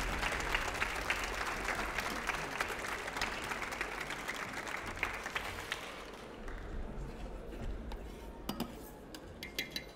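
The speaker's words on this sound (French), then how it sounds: "Je vous demanderai de les applaudir bien fort, s'il vous plaît." Sustained applause from an audience honoring the Swiss pastry team, dense clapping for about six seconds that thins out with scattered claps and some clinking of dishes and cutlery.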